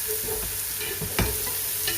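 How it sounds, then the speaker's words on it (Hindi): Garlic frying and being stirred in a pan, a steady sizzle with a sharper scrape of the spoon near the middle, close and alone with no talk. "एड 1 से 2 मिनट के लिए इसको भुनेंगे थोड़ा सा"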